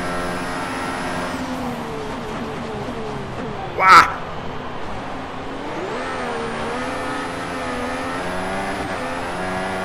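A Ferrari Formula 1 car in the F1 2015 racing game, set at the Shanghai circuit, roars closer with a loud sustained high-pitched engine whine, peaking in a sharp burst as it passes, while someone talks over it.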